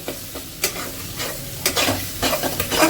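Onion and tomato chutney frying in a pan with oil, stirred in several separate scrapes over a steady close sizzle, with no talking.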